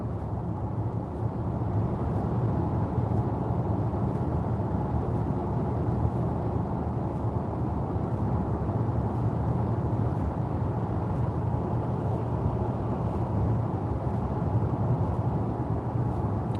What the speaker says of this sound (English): in the 120 zone, the car is actually not that quiet